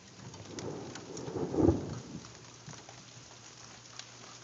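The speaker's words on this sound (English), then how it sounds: "And here comes the rain again." Steady rain falling during a thunderstorm, with a soft thunder rumble swelling near the middle, heard from a house with the patter continuing throughout.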